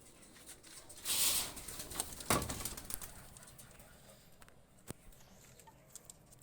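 A Pakistani high flyer pigeon is released and takes off, a short burst of close wing flapping followed by a sharper clap, then quiet outdoor ambience.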